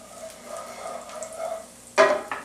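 Chopped garlic and red chili pepper stir-fried in a pan, a soft low sizzle with light scraping of the spoon, then a brief louder clatter of the utensil against the pan near the end.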